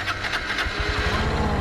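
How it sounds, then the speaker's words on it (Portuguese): A motorcycle engine starting up for the first time in neutral, a rough low rumble settling into a steady idle, close and loud throughout, with no talking. "primeira vez a minha moto ligando"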